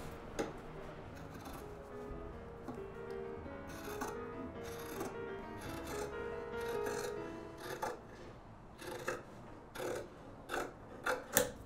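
Scissors cutting through apron fabric along a marked line, a series of crisp snipping and rasping strokes, close and fairly quiet, with brief sharp clicks near the end and no talking.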